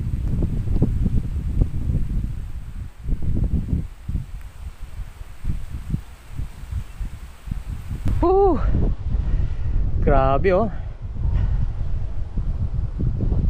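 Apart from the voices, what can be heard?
strong wind blowing outdoors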